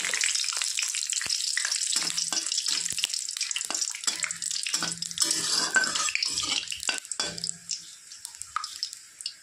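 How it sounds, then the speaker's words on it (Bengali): Bay leaves and dried red chillies hit hot oil and crackle loudly. A dense, close sizzle surges and sputters in uneven bursts, then eases slightly toward the end. "এখন তেলের মধ্যে দিয়ে দিব তেজপাতা, শুকনো লঙ্কা"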